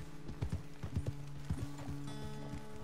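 Hooves clip-clopping in a steady walking rhythm from a horse in the Red Dead Redemption 2 video game, close and clear, with paired hoofbeats repeating over a low tonal background.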